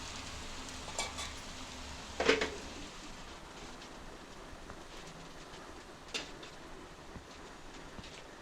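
Pieces of fish sizzle in a pan for Nellore-style fish curry, a faint, steady hiss of frying with a few soft clinks and stirring bumps, heard quite far off.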